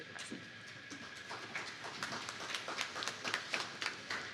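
Audience at a community violence-prevention discussion clapping, a faint patter of scattered claps that builds into a denser, livelier round toward the end.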